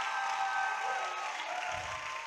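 A church congregation applauding God, a steady soft patter of clapping from a crowd, fairly distant and even throughout, with a faint low murmur near the end.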